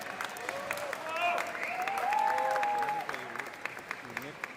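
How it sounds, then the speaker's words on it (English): Scattered audience clapping at a culinary expo crowd, moderate and a little uneven, with voices talking and calling out over it throughout. "Guys, you are allowed to clap, eh?"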